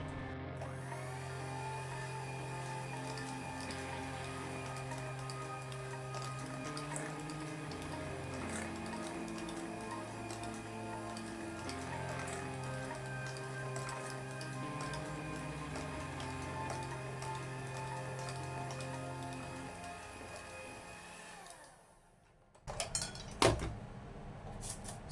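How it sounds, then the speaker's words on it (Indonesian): A coffee bun dough mixture with coffee and coffee or mocha paste is stirred in a bowl, making a steady whirring churn for about twenty seconds that ends in a few knocks and clatters. "Aduk lagi."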